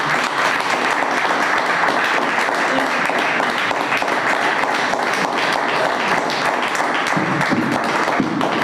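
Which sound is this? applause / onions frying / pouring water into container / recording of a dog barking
applause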